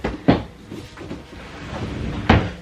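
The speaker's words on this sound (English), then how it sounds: "cleaning out my drawers. They don't even close anymore." A stuck wooden dresser drawer is forced, giving two sharp, close knocks about two seconds apart with faint scraping and rattling between them.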